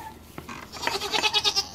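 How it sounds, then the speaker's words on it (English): A baby goat bleats in repeated high-pitched wavering cries, close and fairly loud, following a brief faint noise at the start. "this baby who has a very high-pitched little meow"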